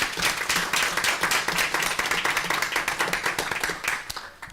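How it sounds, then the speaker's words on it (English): Applause at a village board meeting after a motion passes, a modest room of hands clapping steadily at close range for several seconds, slowly thinning toward the end. "Let's give him some applause."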